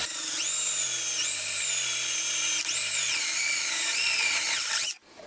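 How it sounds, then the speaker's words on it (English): A power drill whines steadily at high pitch while drilling a hole in acrylic, its tone dipping briefly as it bites into the material, then cuts off abruptly near the end. "I've drilled a hole for my toggle switch now."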